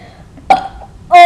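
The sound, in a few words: burp in a burping contest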